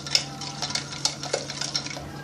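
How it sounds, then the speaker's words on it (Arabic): Eggs and powdered sugar beaten hard in a bowl with a whisk or fork, a quick run of light clinking strokes against the bowl, close and steady with no talking. "نضرب برضو كويس قوي مع بعض عشان نفك اي حاجة"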